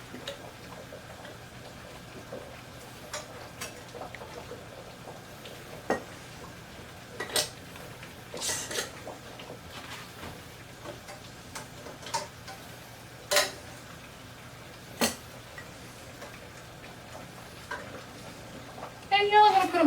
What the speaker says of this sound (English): now let's go ahead and put our lids on